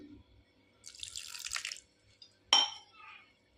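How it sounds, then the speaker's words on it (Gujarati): Two short bursts of water splashing into a mixer jar of lentils, separated by a brief pause, with a faint clink of glass; quiet otherwise. "તો હવે આપણે એમાં સેજમથું પાણી નાખીશું"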